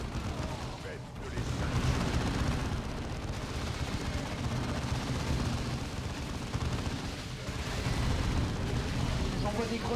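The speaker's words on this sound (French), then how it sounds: "J'envoie des grenades parce que là, il y a du monde là." Grenades explode amid continuous gunfire and battle noise in the Dawn of War 2 strategy game, a dense, rumbling wash of blasts and shots under someone talking.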